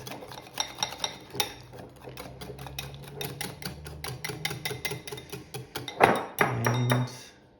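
A spoon or whisk stirring kaymak cream in a bowl, a close, steady run of rhythmic clinks and scrapes that ends in a few louder knocks against the bowl, with no talk.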